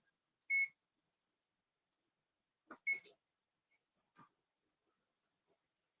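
A kitchen oven gives a short electronic beep, a bright tone that is repeated a couple of seconds later, with faint clicks and handling noises in an otherwise quiet room.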